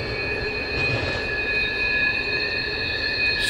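Wheels of an autorack and intermodal freight train squeal around a bend near CP Yoder, making a loud, sustained, high-pitched squeal with several steady tones over a continuous rolling rumble and no talking.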